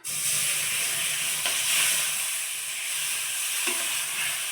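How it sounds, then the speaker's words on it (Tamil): Milk is poured bit by bit into roasted maida flour in a pan on a low flame for white sauce, giving a steady loud sizzle and steamy hiss with occasional stirring scrapes. "இப்போ கொஞ்சம் கொஞ்சமாக நம்ம பால் சேர்த்துக்கலாம்"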